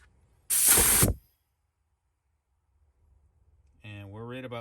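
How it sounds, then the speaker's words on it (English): Compressed air hisses sharply in a loud, short burst from the bleed screw of an Edgun Leshiy 2 air rifle regulator, cutting off abruptly; a voice follows after a quiet pause. "we're going to simulate a shot by opening our bleed screw"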